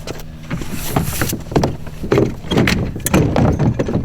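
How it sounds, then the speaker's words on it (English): A boat is flipped onto its side and kicked over, giving a run of hollow thumps, knocks and scraping bumps at close range, irregular and fairly loud throughout. "take this boat, flip it on its side, put these in there, kick it over"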